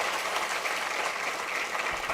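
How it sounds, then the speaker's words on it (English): Sustained applause from a convocation crowd of students, parents and relatives, a steady dense clapping wash with no voices over it. "a big round of applause to all of you who could make it here"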